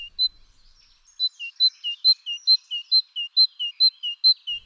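A common chiffchaff sings a clear, metallic series of evenly spaced two-note chirps, alternating up and down in a steady rhythm, loud and alone against silence.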